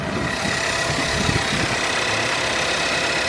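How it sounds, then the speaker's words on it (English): Engine of a 2015 Ford Edge Titanium idling with the hood open, a steady close-up mechanical hum and whir, continuous and alone without talk. "So there's the engine right there."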